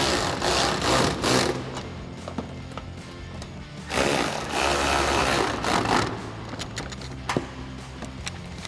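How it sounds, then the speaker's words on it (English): An electric ratchet with a 10mm socket tightening bolts on a 2005-2009 Mustang headlight install, in several short bursts of buzzing motor whir separated by pauses and clicks, close and alone. "I'm going to take my 10mm on my electric ratchet and tighten them up."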